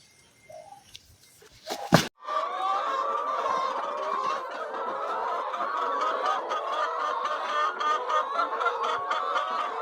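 Chickens cluck in a chicken house of laying hens, a dense, loud, continuous chatter of many birds after a brief bump and a sharp click at the start.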